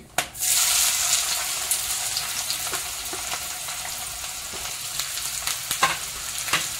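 Onion sizzles in hot oil with bay leaf, cinnamon and cloves, a loud, steady frying hiss that begins with a sharp burst as it goes in, then continues evenly with scattered crackles and pops.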